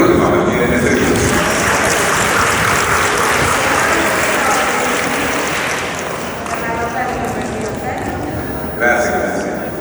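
Applause at an annual awards ceremony in the Zappeion Megaron hall, a large audience clapping loudly and densely before the clapping gradually thins and fades, with a brief swell near the end.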